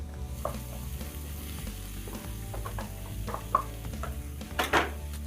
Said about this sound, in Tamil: அடுத்ததாக நம்ம மேஷ் பண்ணி வச்சுருக்கிற உருளைக்கிழங்கையும் போட்டுடலாம்.